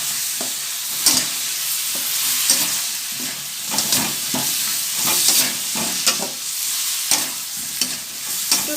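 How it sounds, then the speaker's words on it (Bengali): Spiced potato curry (alur dom) being sautéed in a pan, spatula scraping and stirring in an irregular rhythm over a steady close sizzle, with no voices. "তারপর আমি একটু কষিয়ে নেব।"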